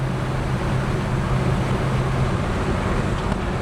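A 1967 Chevrolet El Camino with a 327 V8 cruising on a test drive, giving a steady, continuous engine drone and road rumble from inside the cab, no voices.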